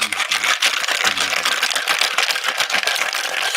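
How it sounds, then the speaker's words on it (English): Ice rattles hard and fast inside a cocktail shaker while a blue-green Smoking Hookah Blue Caterpillar cocktail is mixed, a dense, continuous, close-up clatter lasting several seconds. "shake that up really good"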